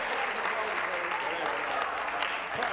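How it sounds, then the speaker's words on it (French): A legislative chamber during question period fills with dense, steady applause and desk-thumping from many members, spread evenly across the space at a moderate level. "Les applaudissements sont bien mérités."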